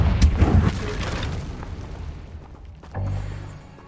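A Confringo blasting spell goes off in the video game Hogwarts Legacy, giving a loud, close boom that rumbles and fades over a few seconds, then a second low burst. A voice speaks around it.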